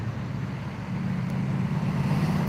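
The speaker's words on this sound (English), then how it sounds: "So sorry if there is a bit of traffic noise as well" Traffic from a busy road alongside the speaker, a steady low rumbling drone of passing cars and heavier vehicles that grows slightly louder midway, continuous and moderately distant with no talking.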